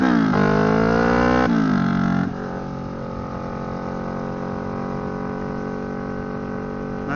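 A motorcycle engine running after its ignition coils were tested, close and loud; its pitch steps down twice early on before settling into an even, steady drone.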